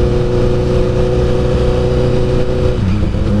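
A motorbike engine roars close and loud on a Sunday ride, holding a steady, throaty revving tone that shifts pitch slightly near the end.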